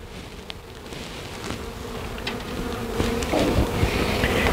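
Honey bees hum in a dense, continuous buzz around their hive, a steady close drone that swells slightly louder toward the end, with individual bees zipping past now and then.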